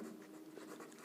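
Hand writing on a classroom board during a linear equations lesson, a brief close run of short scratchy strokes with no pause, alone and without talk.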